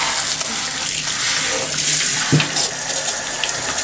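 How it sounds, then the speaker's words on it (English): Warm water runs steadily from a tap or hose while a dog is rinsed during an herbal bath, a constant close hiss of flow with a brief splash partway through and no talk. "so we're gonna rinse Daisy with warm water"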